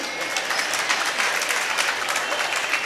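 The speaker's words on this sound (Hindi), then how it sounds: "अब बजाओ ताली ज्ञानी" An audience at a Jain religious discourse claps together, a dense, steady burst of applause that holds evenly for a few seconds with no voice over it.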